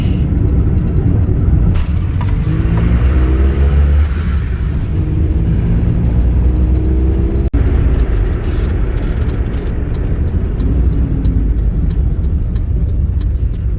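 A vehicle bound for Sringeri drives past in front on a road, its engine rumble and tyre roar loud and steady throughout, with a brief sharp knock partway through.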